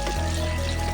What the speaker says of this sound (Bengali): পেঁয়াজটাকে ভালো করে ভাজতে হবে।